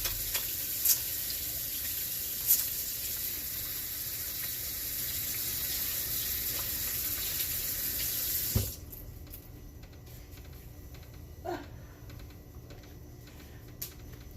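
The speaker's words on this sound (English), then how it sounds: "So let me wash my hands." A tap runs steadily into a sink as hands are washed in a home kitchen while cooking, a close hiss for several seconds that stops abruptly, followed by quieter small clicks and drips.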